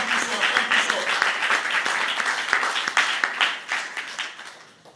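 Congregation at a church glory conference clapping and cheering in praise, a dense continuous wash of applause and shouts that swells steadily, then thins and fades toward the end.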